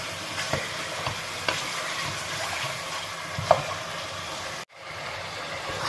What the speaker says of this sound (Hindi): चिकन अब जो है ना फ्राई होना स्टार्ट हो गया